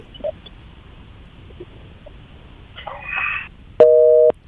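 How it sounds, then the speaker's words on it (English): Steady electronic telephone tone sounding abruptly after a dropped phone call, loud and continuous for about half a second at the end, preceded by faint line noise and a brief muffled burst. "I think we lost Eddie on the phone on that"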